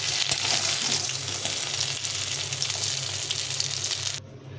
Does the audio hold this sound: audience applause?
no